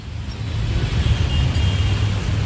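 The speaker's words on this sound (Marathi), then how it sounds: "कॅबवाल्याने आता गाडी वळून घेतली" A cab's engine rumbles close by as the car turns around, a steady low drone that swells slightly mid-way, with no voices over it.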